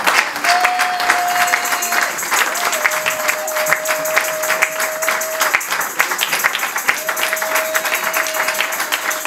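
A church congregation at a seminar applauds its choir with a steady, moderately loud crowd clapping, while a sustained electronic tone, like feedback or a held keyboard note, hums intermittently beneath it.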